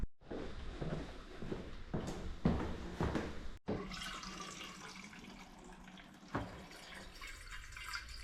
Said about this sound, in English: I'm just going to get my water bottles filled